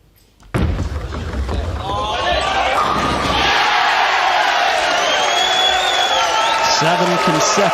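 An arena crowd at a Weber Cup tenpin bowling match roars loudly and steadily after a run of strikes, with a sharp burst at the start followed by sustained cheering and whistles, and a commentator talking underneath.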